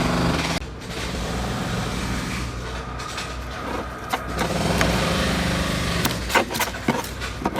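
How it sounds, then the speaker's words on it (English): Roadworks digging up the road outside a house, heard as continuous machinery rumble with scattered knocks and clanks, fairly steady and somewhat distant. "the guys have started digging the road up outside my house today, so I'm going to have a little bit of background noise"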